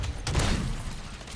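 A single heavy MORS sniper rifle shot in the Modern Warfare III game booms out near and loud, with a deep low thump that rolls into a short, dull decaying rumble.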